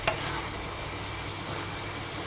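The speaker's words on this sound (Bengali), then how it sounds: "ভেজে নেব শাকগুলো" Sour leafy greens fry in mustard oil with a soft, steady sizzle and stirring, quiet and continuous throughout, with one brief clink at the start.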